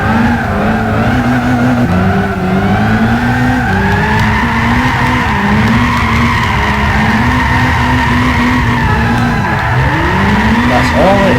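Car drifting in Gran Turismo 6, a sustained loud tire squeal that wavers in pitch over a revving engine, continuous and close for the whole stretch.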